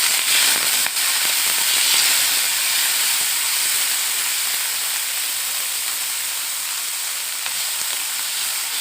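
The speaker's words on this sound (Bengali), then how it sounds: "একটু ফ্রাই করে নেব।" Onion and long chili frying in a teaspoon of oil, a loud, steady close sizzle and hiss throughout with no talk.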